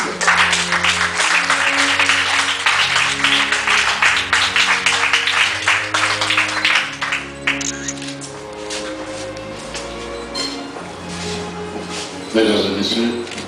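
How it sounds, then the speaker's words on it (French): Wedding guests at an African wedding ceremony applaud loudly for the couple, sustained dense clapping with music underneath, thinning out toward the end. "Il faut les acclamer très très fort, s'il vous plaît."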